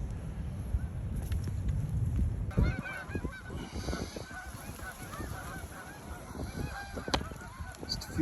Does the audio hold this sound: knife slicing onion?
no